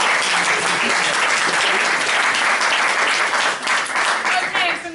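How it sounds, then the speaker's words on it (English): A debate audience in Berlin gives a big round of applause, dense, continuous clapping filling the room for several seconds before it begins to thin out near the end. "let's have a big round of applause for Eckener."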